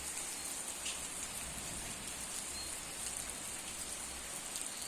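Heavy rain pours steadily and loudly on surfaces nearby, a dense continuous wash of drops with no voices, falling even though the weather looks clear.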